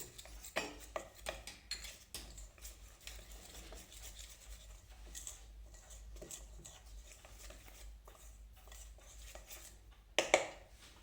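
A spoon scrapes and clinks against a bowl while mixing flour with hot oil for chicken kat-vada, giving irregular close scraping strokes with a sharper clatter near the end.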